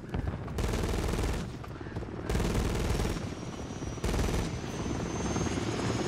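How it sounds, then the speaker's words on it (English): A helicopter drones loudly in a Modern Warfare III multiplayer match while bursts of automatic gunfire rattle on and off, the rotor wash and shots swelling and cutting in distinct blasts across several seconds. "Chopper's about to go down."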